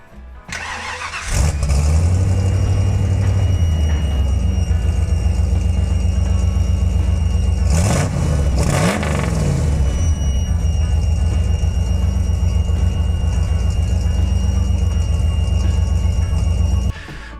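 A truck engine with a repaired fuel pump cranks briefly, fires up quickly and then settles into a steady, loud, low rumbling idle with a short rev partway through. Nobody talks.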